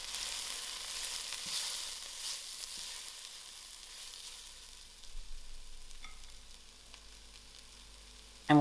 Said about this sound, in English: I will let this to fry a little.